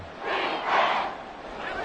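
Stadium crowd roar from a Madden 24 American football video game, a steady broadband swell that rises to a peak in the middle and eases off, with no one talking.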